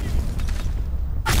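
A bomb detonation in the video game Black Squad, a deep rumbling boom that swells and fades before a sharp bright burst at the end.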